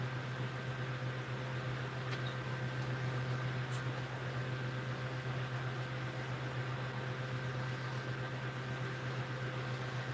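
A 1993 G3 vacuum cleaner runs steadily for the whole stretch, a loud, even motor drone with a strong low hum and broadband airflow hiss, no talking over it.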